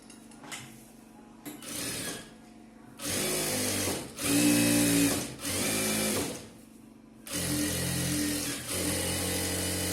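A sewing machine stitching a chudithar in short bursts, its motor whirring and needle clattering in several separate runs broken by brief pauses, close and fairly loud with no talking.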